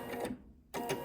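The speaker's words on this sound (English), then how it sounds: "When you get to your cutting point, you are going to backstitch your 3 stitches." A sewing machine backstitches a pillow seam in two quick mechanical bursts separated by a short gap, quiet and close with no talk.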